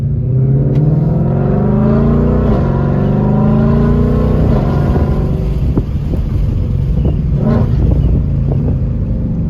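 A car engine in track mode revs hard and drops through gears, the pitch climbing and then stepping down across several downshifts, loud and close with no talking.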